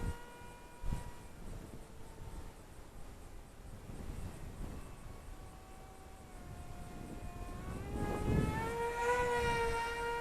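Outdoors in gusty wind, the electric motor of an Eachine Mobula Delta FW650 race wing whines, rising and falling as the small plane passes, with its pitch climbing sharply near the end.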